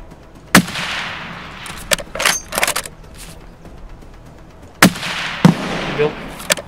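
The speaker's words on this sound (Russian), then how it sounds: "Там выстрел какой-то был." Gunshots in the Escape from Tarkov forest map: a sharp report near the start, then scattered cracks and thuds, followed by two more shots close together near the end, with faint noise between them.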